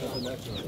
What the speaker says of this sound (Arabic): مزنخة دجاجة هاي